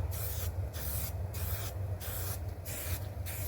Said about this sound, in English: I'm going to spray right over it.